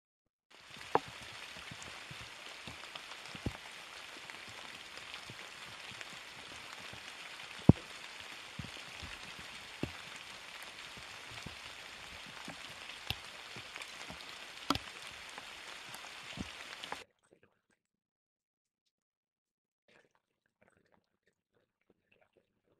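Steady rain falls on a cold, wet day, a continuous hiss with scattered sharp drips and taps that runs for about seventeen seconds and then stops, leaving near silence.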